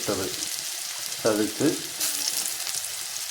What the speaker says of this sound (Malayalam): വെളിച്ചെണ്ണ ചൂടായി കഴിയുമ്പോൾ ചെറിയുള്ളി, വെള്ളുള്ളി, ഇഞ്ചി എന്നിവ ചതച്ച്